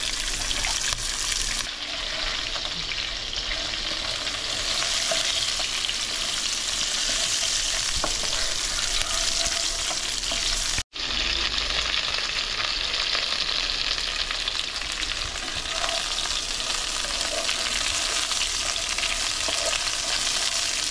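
Cauliflower frying in a pan gives a loud, dense, continuous sizzle with wet spattering and stirring, cut by a brief pause midway before carrying on just as strongly.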